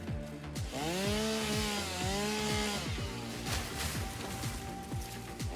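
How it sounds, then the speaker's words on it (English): A chainsaw drones loudly and continuously, its engine pitch sweeping up and down in repeated revving surges before settling into a steadier whine. "Chainsaw!"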